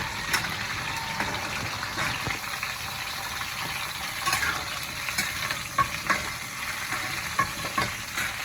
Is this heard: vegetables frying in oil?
yes